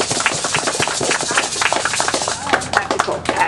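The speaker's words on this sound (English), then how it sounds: "And so please give a round of applause." A festival audience claps loudly and densely, close-up applause continuing for a few seconds with individual sharp claps standing out near the end.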